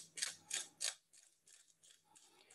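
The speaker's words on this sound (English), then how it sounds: "I'm going to put a lot of cracked black pepper in there." A pepper mill grinds cracked black pepper over food: three loud, rasping grinding bursts close together, followed by softer, scattered ratcheting crunches with no talk.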